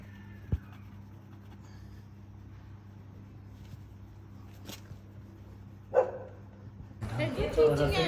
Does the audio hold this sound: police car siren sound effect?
no